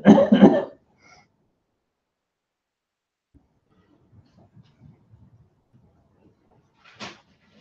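A single loud, harsh cough bursts out at the start, followed by quiet low rustling and a faint, brief sound near the end, with no talking.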